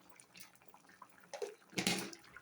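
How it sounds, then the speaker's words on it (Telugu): Tamarind broth is poured into a hot pan and begins to simmer, making a close watery splash and sizzle that swells near the end, with no talking. "ఇప్పుడు పులుసు పోయాలి ఈ పులుసు ఇలా ఉడుకుతుంది"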